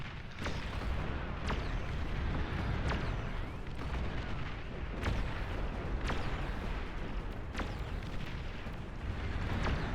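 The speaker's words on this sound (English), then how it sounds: "These snipers firing away." In a video game battle, sniper rifles fire repeatedly in sharp, loud cracks spaced about a second apart over a dense, rumbling background of combat noise, with no speech.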